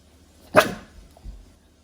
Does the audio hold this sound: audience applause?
no